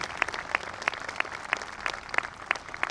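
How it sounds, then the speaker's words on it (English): Evenly spaced claps in a steady rhythm at a graduation ceremony, moderately loud, with no talking. "A round of applause for our principal, Mike Rubin"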